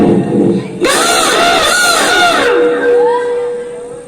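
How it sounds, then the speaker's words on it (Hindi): A woman's loud, wavering scream rings out in a staged Ramlila performance of Sita's abduction, a sustained cry over crowd noise before it trails off into a thin held tone. "यह तो किसी की चीखने की आवाज आ रही है।"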